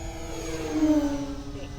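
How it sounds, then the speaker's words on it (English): Radio-controlled Beechcraft D18 model plane with twin electric motors makes a low pass, its steady whining drone swelling briefly as it goes by against outdoor background noise. "I love the low passes with this thing, the sound of both the motors going."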